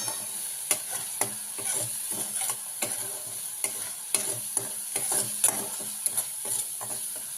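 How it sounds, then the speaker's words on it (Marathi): A spiced potato mixture with salt, garam masala, coriander powder and turmeric is stirred and sautéed in hot oil for paratha filling, a steady soft sizzle broken by repeated scraping strokes of the spoon. "चांगलं परतून घेऊया आपण"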